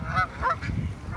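Geese honking on open water, a few loud, close calls in quick succession over a low rumble of wind and water.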